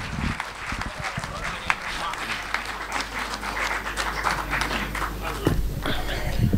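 An audience at a Kavi Sammelan poetry gathering in Mumbai applauds poet Rajendra Malviya with steady, dense clapping that holds and swells for several seconds while a voice speaks over it.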